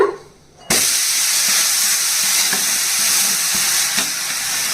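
Ragi uttapam cooking in a pan just after being flipped: a quiet moment, then a sudden loud sizzle that holds steady, dotted with faint soft pops and crackles.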